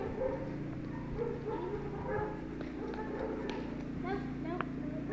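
A year-and-a-half-old Giant Schnauzer lets out scattered short barks and yips during obedience and protection training, moderately loud and intermittent beneath people talking throughout.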